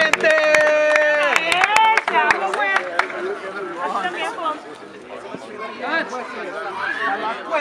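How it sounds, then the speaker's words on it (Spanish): Street crowd at a rap battle in a market in León, Guanajuato, bursting into loud clapping and cheering after a turn, with voices and chatter over and after the applause. "¡Aplauso, gente!"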